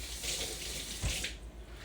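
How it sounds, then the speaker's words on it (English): A tap runs steadily over a spoon being rinsed in a kitchen sink while nachos are made, a continuous close splashing hiss with a brief clatter partway through. "let me rinse my spoon off"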